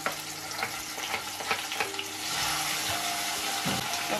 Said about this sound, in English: then I'll add red onions, and I'll add my red pepper.